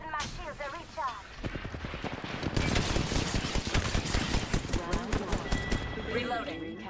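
Rapid automatic gunfire in Apex Legends rattles in fast, dense bursts that grow louder and keep going, with voices talking over the shooting.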